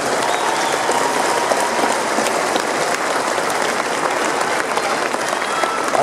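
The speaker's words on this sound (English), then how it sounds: "give them a round of applause" Loud, dense applause from a rally crowd in Cardiff supporting Scottish independence, a continuous roar of many hands clapping at steady intensity from start to finish.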